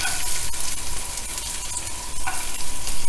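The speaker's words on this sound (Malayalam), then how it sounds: "ഇതൊന്ന് വറുത്തെടുക്കാം" Small chopped coconut pieces frying in ghee, a dense crackling sizzle with occasional stirring scrapes and clicks against the pan, close and fairly loud, with no voices.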